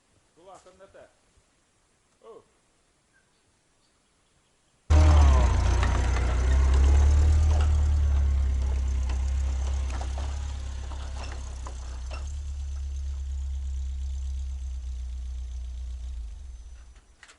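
UAZ off-road vehicle engine starting up abruptly after a few faint sounds, then a loud, low, steady running rumble that eases slightly over time, close by on snow.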